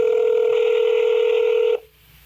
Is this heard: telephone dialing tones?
yes